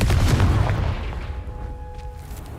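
A single Confringo fire blast spell from the video game Hogwarts Legacy, one loud close boom that fades into a rumbling tail, with no talking.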